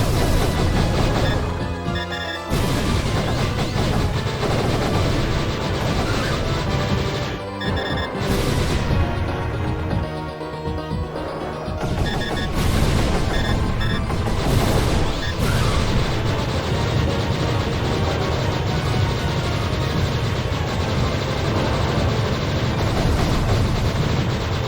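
Gunshots in a video game boss fight against a dragon, a dense, continuous barrage of booming shots and explosions under loud game music, with a few brief gaps, no talk.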